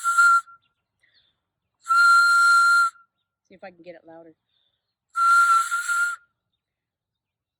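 Whistles carved from elderberry branches give three shrill, sustained blasts, each about a second long, separated by silence, with a short spoken remark in between.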